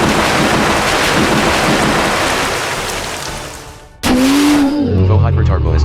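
A Storm Rush attack in the Manamon 2: Eternal Requiem video game opens with a loud, sustained roaring wind-and-rain rush that fades. A sharp burst cuts in, followed by a rising tonal whoosh and a low electronic hum.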